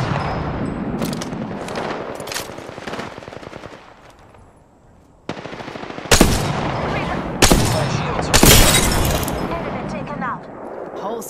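Enemy gunfire in Apex Legends, loud machine-gun bursts rattling in rapid volleys, with a quieter lull midway before sharp, heavy shots resume.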